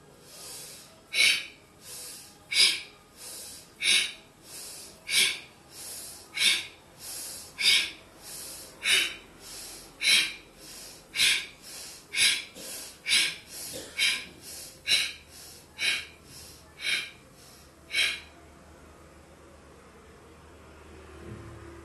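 Forceful rhythmic bhastrika pranayama breathing, sharp breaths in and out repeated about twenty times at a steady pace, then stopping, leaving quiet.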